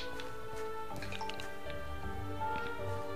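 Water placed in a Minecraft automatic farm on PS4 gives a short run of soft dripping, squishy liquid sounds over a steady hum of game music, with no talk.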